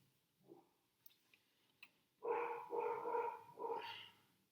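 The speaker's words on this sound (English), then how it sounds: "do you hear my dog?" A pet dog barks indoors in a short run of rough, fairly close barks after a few faint knocks and small noises, the barks coming in quick bursts within otherwise quiet surroundings.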